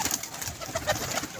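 A pigeon at a pigeon club coos in a short, close, soft burst of throaty calls lasting little more than a second.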